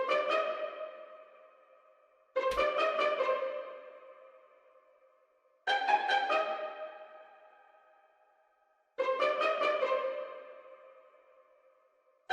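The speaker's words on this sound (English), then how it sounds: "these Pizzicato strings, they're good at adding like some extra atmosphere and bounce" Pizzicato orchestral strings in a hip-hop beat pluck four separate chords at a steady, unhurried pace, each ringing out and fading before the next. Fairly quiet and heard alone.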